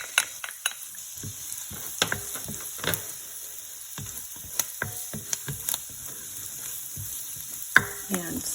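Garlic sizzles in a pan over medium heat for Spanish shrimp scampi, with crisp crackling and repeated sharp clicks and scrapes of a utensil against the pan.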